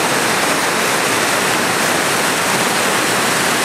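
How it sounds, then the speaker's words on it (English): A small waterfall on a hiking trail where a creek drops steeply, heard close and loud as a constant, dense rushing roar of falling water that never lets up. "Kind of cool little waterfall."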